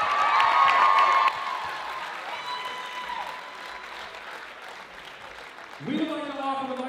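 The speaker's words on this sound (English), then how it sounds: "How about another round of applause for Morgan and Mariah?" A wedding reception crowd applauds steadily with some cheering, the clapping fading gradually while a voice calls out over the tail end.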